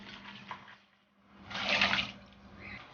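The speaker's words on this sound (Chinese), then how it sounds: "用清水泡一下，沥干水分。" Water splashing and running as soaked dried spices for Sichuan spicy crayfish are rinsed and drained, a soft wash swelling in the middle then easing off, close by with no talk.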